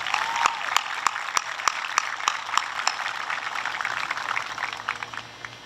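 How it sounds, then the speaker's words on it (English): A high school graduation crowd applauds school staff, a broad patter of clapping with scattered sharp, close individual claps standing out, gradually thinning toward the end. "Please join me in giving a round of applause to our incredible staff."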